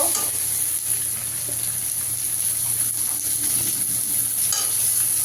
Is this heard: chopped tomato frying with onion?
yes